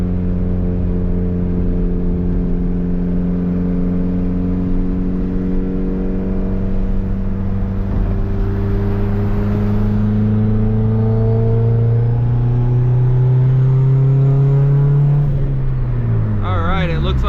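A built turbocharged Honda Civic D16 engine pulls hard under boost, a loud steady drone climbing in pitch over about fifteen seconds before backing off abruptly near the end.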